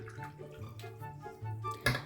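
A small squirrel-hair paintbrush, size three, dipped and swirled in a jar of water while setting up Petrykivka decorative painting; soft close sloshing and dripping with a brief splashier burst near the end.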